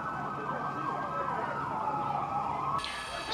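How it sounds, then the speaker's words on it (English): Distant emergency vehicle sirens wail under the rumble of city traffic, faint and continuous. "There's a bunch of sirens."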